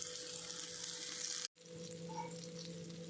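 Pomfret fish coated in rava shallow-frying in a pan over medium flame, a steady close sizzle that keeps going with one brief dropout midway.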